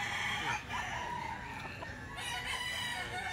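A hatch gray gamecock crows loudly over a constant barnyard din, its harmonic call stretching across the whole moment amid other fowl clucking nearby.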